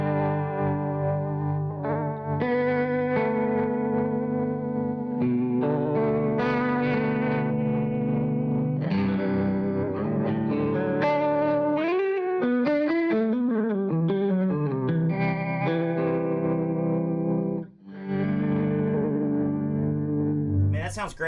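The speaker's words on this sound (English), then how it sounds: "So now let's throw our trem back in" An electric guitar runs through a Chroma Console effects pedal with its tremolo engaged, sustained chords and notes pulsing in volume. The playing is continuous and full, with a wavering, warbling passage midway and a brief dip near the end.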